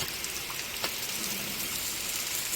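Heavy rain pouring down outdoors during welding work on a village house in Konkan: a dense, steady hiss of rain on surfaces, loud and unbroken throughout, with a few brief clicks and no talk.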